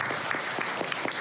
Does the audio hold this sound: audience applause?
yes